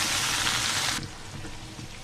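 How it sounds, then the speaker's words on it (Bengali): Okra sizzles while frying on low heat in an uncovered pan, a bright, dense crackle that abruptly drops to a quieter, steady fizz halfway through. "আমি ঢাকনা ছাড়া ভেন্ডি ভাজি করবো।"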